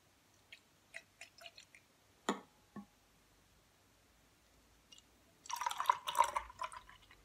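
Beer is poured into a glass, faint and close: a few soft drips and taps come first, then a short burst of splashing, fizzing liquid near the end.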